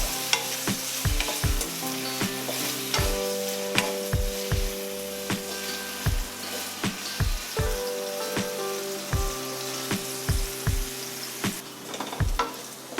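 Paneer cubes sautéing in hot oil for a vegetable biryani, a steady sizzle broken by regular scraping clicks of a spoon stirring the pan, close and clear with no talking.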